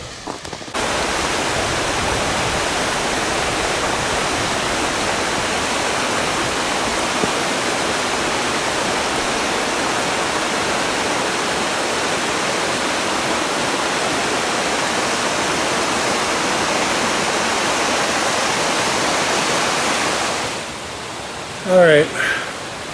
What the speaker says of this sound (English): But I'm almost to the waterfall.